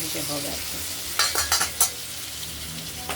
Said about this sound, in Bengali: মাছগুলো ভাজা হচ্ছে দুটো মাছ হয়ে গেছে ভাজা